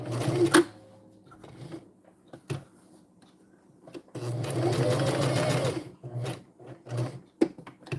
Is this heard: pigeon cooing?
no